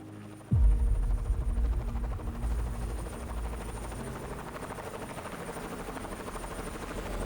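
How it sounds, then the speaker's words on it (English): A helicopter flying low overhead, its deep rhythmic rotor throb and engine hum starting abruptly and continuing steadily, loud and close, with no voices. "When that helicopter comes down kind of nice and low"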